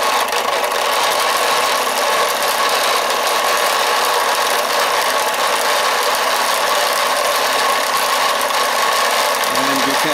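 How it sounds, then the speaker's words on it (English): A small single-cylinder Mamod steam engine on a model steam boat runs steadily with a continuous mechanical hum and hiss, fairly loud and close, with no clear talking. "we have quite a good performance on that little single cylinder steam engine"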